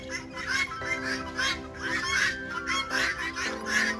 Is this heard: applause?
no